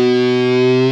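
A distorted electric guitar, run through effects, sustains a single thick chord-like tone for about a second, loud and steady with no audible bend within this short span.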